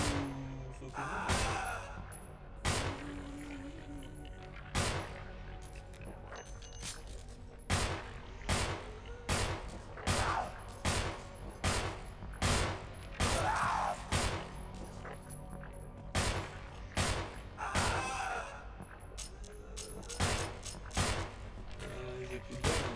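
Gunfire in the Resident Evil video game: a long series of sharp, loud shots fired at uneven intervals, some in quick bursts, with voices talking between them.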